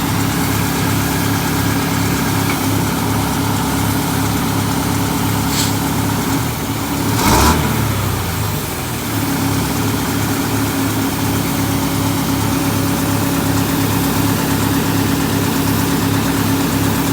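A 1968 MCI 5A bus engine idles steadily from inside the coach, a low rumbling drone with a brief louder surge partway through before settling back to an even idle.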